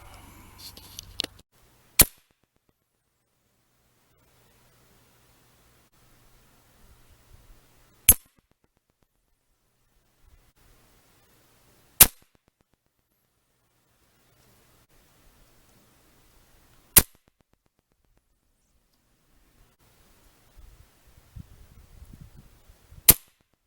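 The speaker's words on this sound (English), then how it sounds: "now we're going to try some of the Imperial Crosman pointed rounds, and we'll see what kind of a group we can get on them at 20 yards" A Crosman Shockwave .177 air rifle fires pellets at a target 20 yards away: five sharp, isolated cracks spaced several seconds apart, with quiet handling noise and faint murmurs in the gaps.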